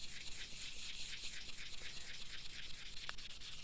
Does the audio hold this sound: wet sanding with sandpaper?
yes